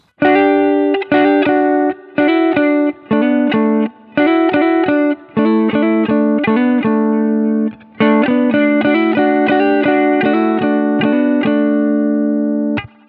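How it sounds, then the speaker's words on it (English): Distorted electric guitar, an Epiphone Sheraton II Pro, playing two-note chords with quick hammered-on notes, in short loud phrases separated by brief pauses, up close with no voices. "play them like in a random order, maybe just to feel the sound of the double stops and hammer-ons"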